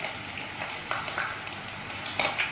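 Three chopped green chillies sizzle and crackle in about one and a half tablespoons of hot sunflower oil in a pan, a steady close frying hiss with small pops.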